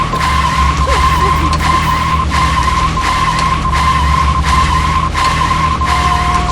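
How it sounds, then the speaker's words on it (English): Loud, continuous tire skidding with a steady engine hum from the video game Deadly Premonition, pulsing in regular bursts roughly every half second, with no voices. "Yes, car noise."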